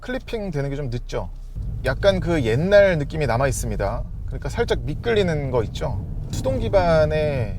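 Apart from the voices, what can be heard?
No everyday noises stand out.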